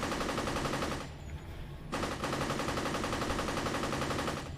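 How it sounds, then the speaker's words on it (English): An assault rifle in the video game Champions Online fires in long, rapid automatic bursts, with a brief pause before the steady rattle resumes, loud and close. "And we go with the assault rifle."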